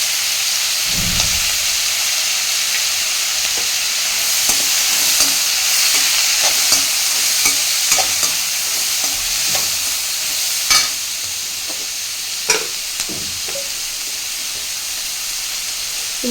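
Sliced onions sauté in oil in a pan for poori masala, giving a steady close sizzle and hiss. A spoon scrapes and stirs at irregular moments, with a few sharper knocks against the pan.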